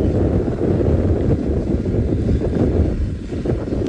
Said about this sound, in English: It is very, very windy at Chitwa Dam, so please excuse any wind that might be coming through the audio here.